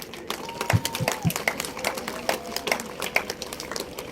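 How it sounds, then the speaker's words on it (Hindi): Audience clapping at a school annual night event for teachers and alumni students, heard as scattered, uneven claps with some voices mixed in rather than a full dense ovation. "उनके लिए एक जोरदार ताली बजाइए"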